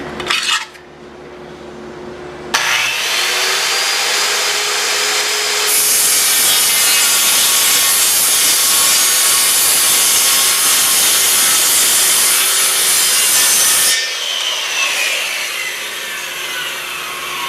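A power saw cutting downward through wood, a loud continuous buzzing grind lasting about eleven seconds after a short start-up, then winding down, close and alone with no talking.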